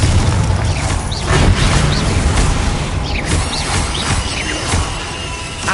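Confringo blasting spells explode in Hogwarts Legacy combat, a dense rumbling roar of booms and crashes with scattered sharp pops and debris across the whole stretch, no talk.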